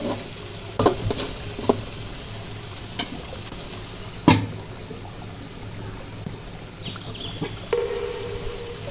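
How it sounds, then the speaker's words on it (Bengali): Fried okra gets stirred in a pot for a Bengali taki fish bhuna, a close, constant sizzle punctuated by sharp clanks and scrapes of a spoon against the metal, one especially loud knock midway, with no talking. "সবজিগুলো কিন্তু একটু পরপর এইভাবে ভালো করে নেড়ে চেড়ে দিতে হবে যেন পাতিলের তলায় যেন লেগে না যায়।"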